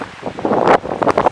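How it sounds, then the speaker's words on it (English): Gusty wind buffets the microphone on an open heathland trail at Dolly Sods in spring, swelling in loud rushing bursts with no talking. "Windy."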